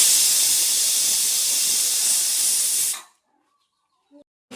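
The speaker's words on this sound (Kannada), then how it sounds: "ಕುಕ್ಕರ್ ಈಗ ಓಪನ್ ಮಾಡಿದೆ," A pressure cooker being opened at home releases a loud, steady rush of hissing steam that cuts off abruptly after about three seconds, followed by quiet and a couple of faint clicks.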